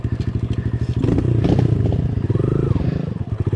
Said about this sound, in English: Our viewers want to see the KLX in action.